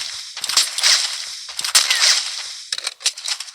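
Rapid sniper rifle shots crack in the Free Fire video game, a cluster of loud, sharp reports with short echoing tails, several close together and then a few more after a brief pause.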